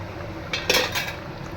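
A lid lifted off a pot of fish simmering in a poppy-seed (posto) sauce, heard as a short metallic clink and scrape of cookware over a soft bubbling background, close and brief.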